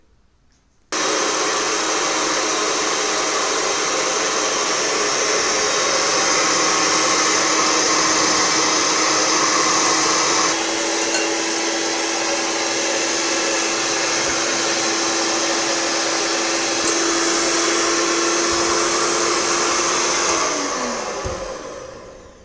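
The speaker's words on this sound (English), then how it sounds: "Now we will whisk them with this." An electric whisk beats eggs for carrot cake batter, a loud steady whirring drone that starts abruptly, runs continuously at close range with a slight pitch shift, then winds down.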